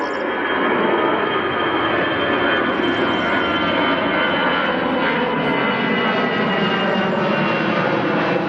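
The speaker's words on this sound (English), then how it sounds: "Let's see this takeoff." An airliner at Berlin airport takes off with a loud, sustained jet engine roar that holds steady across the whole stretch, close and dominant with no talk.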